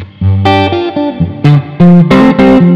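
Electric guitar with effects, distortion, chorus and reverb, plays a syncopated, dragging variation of a song, with loud chord stabs and single notes in uneven rhythm and no talking.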